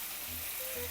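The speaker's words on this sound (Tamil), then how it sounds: "அதை இப்போ நல்லபடியாக மேரினேட் பண்ண அந்த சிக்கனை ஒன்றா பொரிச்சு எடுக்க போகிறோம்" Marinated chicken shallow-fries in a pan with a steady, close hiss and faint crackle, briefly heard on its own.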